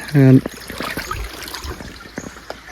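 A small, shallow creek trickles faintly and continuously over rocks at a gold prospecting site, heard after a brief voice at the start.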